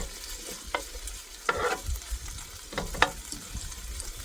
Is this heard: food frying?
yes